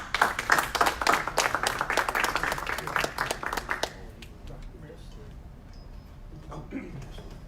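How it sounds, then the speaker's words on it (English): Audience at a mayor's media briefing claps for a few seconds, dense hand clapping that thins and fades out around the midpoint, followed by quieter room sounds and scattered faint noises. "One more round of applause."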